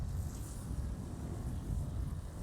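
Steady, dense wind buffets an outdoor microphone, a continuous low rumble with no talk, near and fairly loud throughout.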